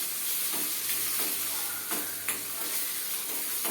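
Curry leaves hit a hot pan over a brinjal and jackfruit-seed tamarind kootu, giving a close, continuous sizzle and hiss with intermittent sharp crackles and stirring clicks, no talking.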